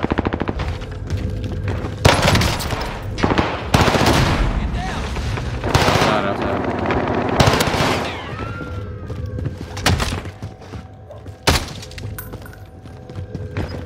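DMR rifle shots and other gunfire crack in loud bursts in Vanguard Warzone on Rebirth Island, mixed with impacts and game effects, while a player's voice is heard at times.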